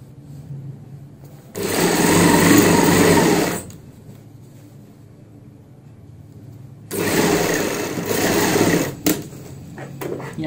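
A sewing machine runs two bursts of rapid stitching on a box pleat palazzo pant, each lasting a couple of seconds with a quiet pause between, loud and close.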